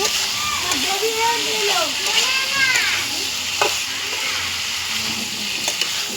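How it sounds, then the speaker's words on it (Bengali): Raw jackfruit sautéing with spices, garlic and onion in a pan, giving a continuous sizzle with occasional stirring clatter, while a voice talks over it. "কাঁঠালের ইঁচড়গুলি এখন কষাবো একটু মশলায়।"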